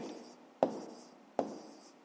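Pen strokes on paper while long numbers are written out by hand for a fifth-grade maths exercise, giving a soft continuous scratch with two sharper taps, no voices.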